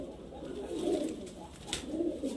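Giribaz highflyer pigeons coo in soft, repeated throaty rolls close by, two swelling phrases over a quiet background.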